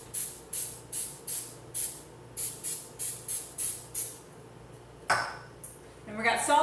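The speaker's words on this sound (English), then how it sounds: "Just light spray." Cooking spray greases silicone muffin mats for pepperoni pizza egg cups in a home kitchen, a run of about a dozen short rhythmic hissing spritzes followed by a clatter and a brief voice.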